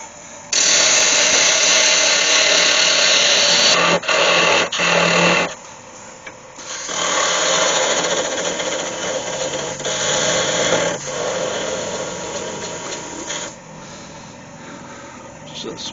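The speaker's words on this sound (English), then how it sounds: "I need to go in at that sort of angle with my parting off tool." A parting off tool cuts into turned wood on a lathe, making a loud, sustained, rough scraping hiss close by. It breaks off briefly, returns for a long second stretch and then fades out.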